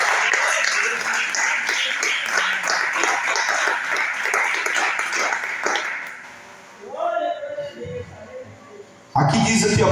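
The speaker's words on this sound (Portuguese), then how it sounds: "Tem uma salva de palmas para Jesus" Applause for Jesus at a church service, a dense, steady wash of clapping from a congregation that lasts about six seconds, then breaks off into quieter scattered sounds and a voice near the end.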